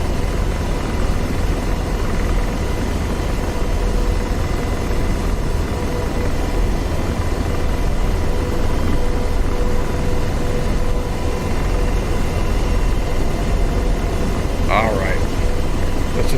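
Helicopter hovering at night over the Marianas in DCS World, a steady loud rotor and engine drone filling the whole stretch with constant broadband rumble, a brief higher chirp near the end.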